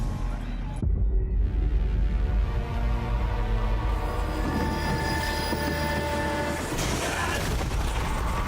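A loud, continuous rumble of a train in the video game Zombie Army 4: Dead War, with metallic rattling and booming, ending in a rising hiss; voices speak intermittently over it.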